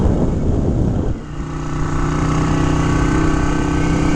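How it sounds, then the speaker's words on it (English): A 1959 MV Agusta 150RS Rapido Sport engine runs close by with a steady, throaty dual-exhaust rumble that shifts pitch briefly early on, then settles into an even drone. "Nice exhaust note from the dual exhaust"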